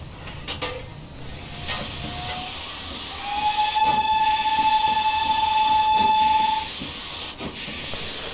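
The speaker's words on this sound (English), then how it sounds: "That's our normal spacebar whistle." A GWR Small Prairie 2-6-2T steam tank locomotive in Train Simulator Classic sounds its whistle, a clear sustained tone lasting about three seconds over a constant steam hiss, with soft thumps around it and no talking.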